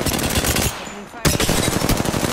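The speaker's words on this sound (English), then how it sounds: "Opening fire." Rapid automatic gunfire in the Apex Legends video game, loud dense bursts with a short gap in the middle before firing resumes.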